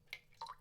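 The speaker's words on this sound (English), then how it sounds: "Drip, drip." Two water drips falling in Hezekiah's tunnel, sharp and quiet, a short plink followed by a second drop in a hushed space.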